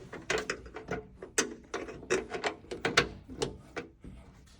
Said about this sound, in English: Put the bolt in.